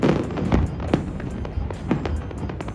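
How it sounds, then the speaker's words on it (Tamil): Fireworks over Manhattan, New York City, heard as dense, continuous crackling and popping bursts layered over steady crowd and city rumble, with no clear pauses. "அமெரிக்காலே ரொம்ப ஃபேமஸான ஃபயர் ஒர்க்ஸு."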